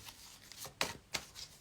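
A deck of angel cards shuffled by hand, giving a few quick, soft riffling bursts close by, with no talking.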